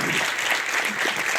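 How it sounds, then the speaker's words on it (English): Conference audience applauding after a talk, a dense steady wash of clapping throughout, fairly close and even. "Once again, a round of applause, please."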